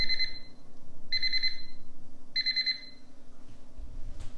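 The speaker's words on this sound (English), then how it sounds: "That was the timer." A Breville countertop oven's timer goes off with three bursts of rapid high electronic beeps about a second apart, clear over a low steady hum.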